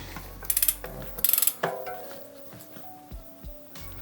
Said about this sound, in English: then you can just tighten it with your adjustable spanner